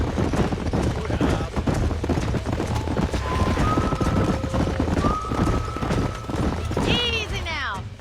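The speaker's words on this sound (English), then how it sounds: "These are fine horses." Horse hooves clip-clop steadily in Red Dead Redemption, with a neigh rising near the end, all beneath ongoing talk and ambient game sound.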